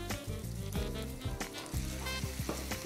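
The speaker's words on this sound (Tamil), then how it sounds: "ஸோ இப்போ இதோட சேர்ந்து தக்காளியும் நல்லா வதங்கட்டும்" Tomatoes, peas and cauliflower sauté with onions in a pan, a loud steady sizzle with repeated scraping stirs and utensil knocks against the pan, close up and without voices.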